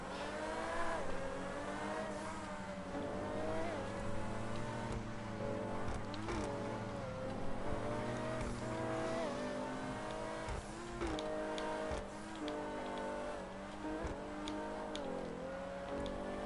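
Car engine in GTA 5 Online, revving and shifting pitch as the vehicle accelerates and drives, moderately loud and continuous with occasional tire noise, no talking.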